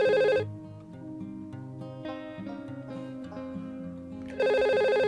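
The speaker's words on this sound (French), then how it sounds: "Oui, ça sonne." A VoIP office desk phone rings for an incoming internal call, its electronic ring bursting loud at the start and again at the end, with a quieter melodic tone between the bursts and no talk.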